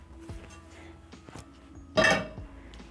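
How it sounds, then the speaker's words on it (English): Cast iron pan lifted and handled in a home kitchen, one loud metallic clank and scrape near the middle, with light clinks and kitchen handling noise around it. "So I'm going to pick my cast iron pan."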